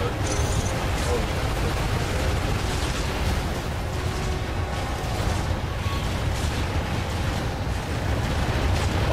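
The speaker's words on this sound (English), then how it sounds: "Your own explosions don't hurt you" Dense, continuous rumbling explosions and blasts from weapons fire in the Transformers game on Wii, loud and sustained with no clear pauses.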